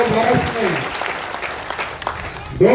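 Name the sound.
applause at a political rally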